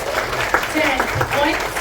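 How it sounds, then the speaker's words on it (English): Classroom applause from students during a school play about the American Revolution, dense clapping with cheering voices and talk mixed throughout, steady and close for the whole stretch. "A round of applause."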